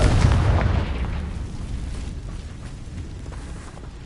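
A Confringo spell explosion in Hogwarts Legacy, opening with a loud boom that decays into a fading rumble across several seconds.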